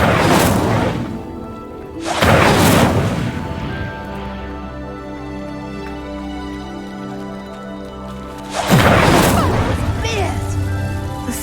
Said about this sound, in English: The flames make the pyre sink.